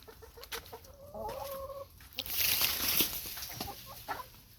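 Chickens cluck softly nearby in short, scattered bursts in a sunny farmyard, with outdoor rustling and a brief rise in background noise.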